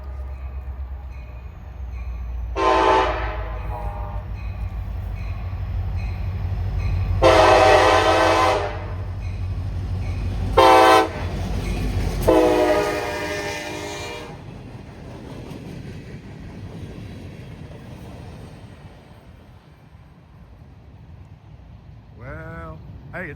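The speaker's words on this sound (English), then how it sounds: "Well, hey, it's a train." Local freight train with only a few cars passing at close range: a low rumble of wheels on track under several long, loud horn blasts of differing lengths, the roar fading into quieter clatter at the end.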